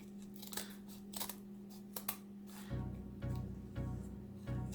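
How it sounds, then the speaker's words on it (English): Scissors snip through burlap while cutting out flower petals, a series of quiet, crisp cuts repeating at a steady rhythm close up, with a low hum underneath. "we're going to cut right down the center here."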